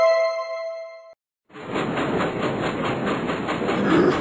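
Animated toy train in a children's learning video game rolling along its track, a steady clickety-clack of wheels with a bright chiming tone on top, running loud and continuous after a short melodic chime and a brief pause.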